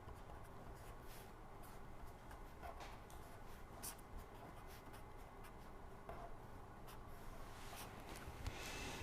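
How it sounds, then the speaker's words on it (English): A lecturer writes on a board during a lecture on fault detection in motors and transformers: soft continuous scratching and scribbling strokes over a steady room hum, with occasional light taps, no voice. "I will write it here."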